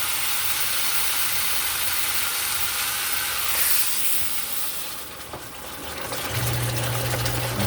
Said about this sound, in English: Now I'm gonna go ahead and deglaze with just a cup of water.